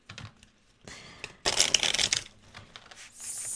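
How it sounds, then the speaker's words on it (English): Tarot card deck being shuffled by hand: a few soft riffling bursts, the loudest in the middle, with crisp papery flutter and light clicks, close and alone without talk. "I already pre-shuffled the deck, but just for everyone's peace of mind."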